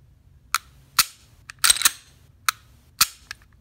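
A Taurus TH9C pistol being dry fired produces a series of sharp, close clicks at irregular intervals, about six distinct snaps over a few seconds with near silence between them.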